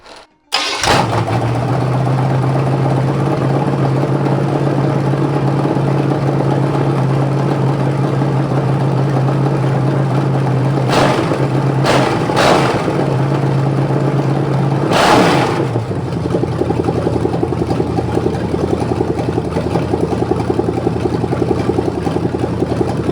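350 Chevy small block V8 cranks and fires up close by, settling into a loud steady idle, then three sharp revs about ten to fifteen seconds later before it drops back to a rougher idle.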